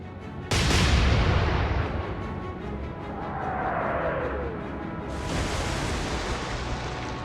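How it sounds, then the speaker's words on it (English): A warship firing an artillery salvo at sea, one heavy sudden blast followed by a long rolling rumble, then a whistling shell sound and a second loud wave of booming noise. "fired the first salvo of the engagement"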